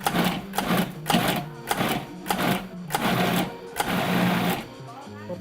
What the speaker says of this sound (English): We're transferring our roasted cauliflower to the food processor, where we'll pulse until finely chopped.